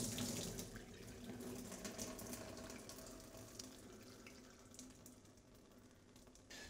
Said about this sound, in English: now we're just going to drain that off, get rid of the hot water